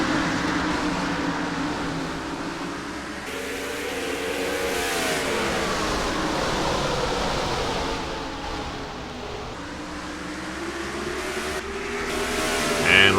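Stock race cars in NASCAR Racing 2003 at Irwindale Speedway in Southern California, their engines roaring and revving in a dense, continuous pack, pitches rising and falling as they pass, loud and close throughout.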